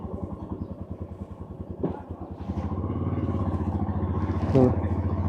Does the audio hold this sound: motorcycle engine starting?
yes